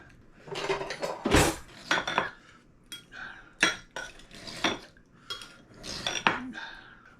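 A knife cuts through lasagna with large, undercooked noodles, cheese and sauce on a plate: a close series of metallic clinks and short scrapes against the dish in uneven bursts, with no talking.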